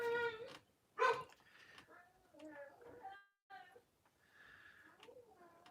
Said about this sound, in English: You stop barking.